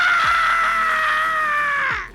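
A single person lets out a sustained, piercing high-pitched scream lasting about two seconds, loud and close, alone with no other sound, before it cuts off abruptly.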